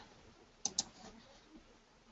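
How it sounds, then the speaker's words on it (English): Two quick computer mouse clicks close together, sharp and faint in a quiet room, followed by near silence. "Left click, right click"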